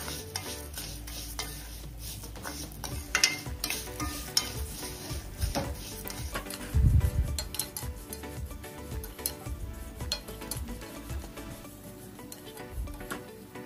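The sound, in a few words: vermicelli roasting in ghee in a pan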